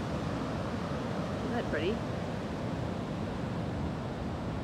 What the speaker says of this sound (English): I'm here on the beach.